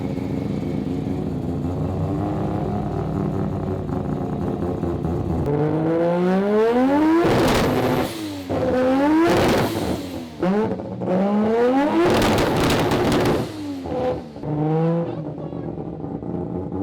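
An 800-horsepower Mazda RX-7 FD rotary launches hard off the line, a loud, nearby engine roar that climbs through several sharp rising revs and gear changes, with a lower engine drone before it.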